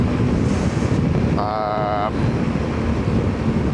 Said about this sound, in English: feels quite windy.